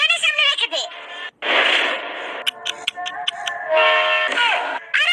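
A cartoon metro train rushes past with a loud rumbling roar and a brief horn-like tone, while voices talk excitedly over it.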